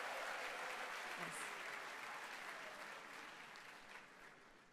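An audience at a diplomatic event with an honorary consul and the Rwandan ambassador claps in a dense, sustained round of applause that fills the room and slowly tapers off.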